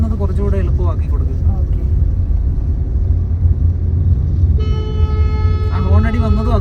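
A car horn sounds from a nearby vehicle in slow traffic, giving one sustained honk partway through over a steady engine rumble, while someone talks before and around it.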